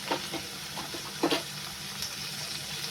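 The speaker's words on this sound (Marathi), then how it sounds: "ही व्यवस्थित थोडी परतून घ्या डाळ. व्यवस्थित अशी ढवळून घ्या." Soaked lentils sizzle in a hot pan while being stirred, the steady frying hiss broken by a few scraping stirs of the spoon, with no talking.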